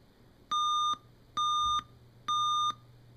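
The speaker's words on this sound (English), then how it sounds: "just like the original, it flashed the screen and made the beeps, so it's run through the self-test" Self-test beeps from a Berzerk Frenzy arcade game board: three identical electronic tones, each about half a second long, evenly spaced and clean against a quiet background hum.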